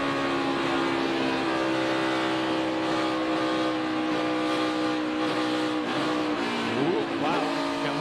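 A NASCAR Cup Series race car driven by Martin Truex Jr. at Charlotte during the Coca-Cola 600, engine droning steadily at high revs as the throttle is modulated, with a brief pitch sweep near the end under a broadcast mix.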